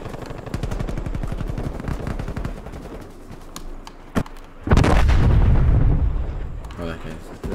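Rapid automatic gunfire rattles in a fast, steady stream in Call of Duty Cold War multiplayer, broken by sharp single shots before a heavy, booming explosion hits and rumbles on; a player talks over the noise.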